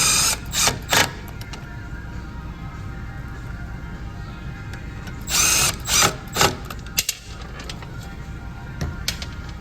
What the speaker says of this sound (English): Then you take and put your screws back in.